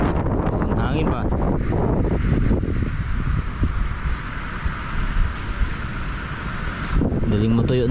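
Strong wind ahead of a typhoon buffets the microphone in heavy gusts, with a roaring, rustling quality and brief voices in the background at the start and end.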